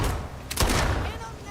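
Gunfire in the video game Starfield, a loud close shot and a thudding follow-up burst amid a noisy firefight, with a voice speaking underneath.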